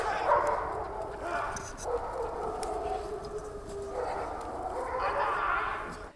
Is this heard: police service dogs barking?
yes